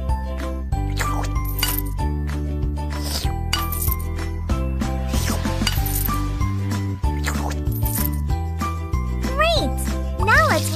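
Dishes being washed in a children's video game, with short bright clinks and tinkles over steady cartoonish background music, close and clear.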